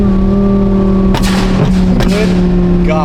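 An Audi R8 with a very loud exhaust holds a steady, droning engine tone, then gives several sharp, loud blips and pops, heard close and dominating.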